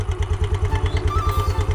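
A motorcycle engine idles nearby with a rapid, even thumping pulse and a light mechanical clatter, steady and unbroken throughout.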